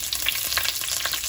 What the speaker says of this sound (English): Oil looks hot now. To this, let me add curry leaves first.